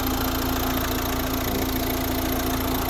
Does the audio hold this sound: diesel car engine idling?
yes